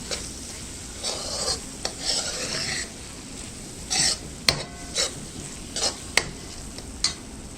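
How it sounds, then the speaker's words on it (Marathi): Spices being stirred and sautéed in gravy in a pan for dhaba-style aloo matar: a steady soft sizzle with repeated scraping strokes of a spoon and a few sharp clinks against the pan, close and alone. "हे जे मसाले आहेत ते ह्या ग्रेव्हीबरोबर एक दोन मिनटं आपल्याला छान परतून घ्यायचे"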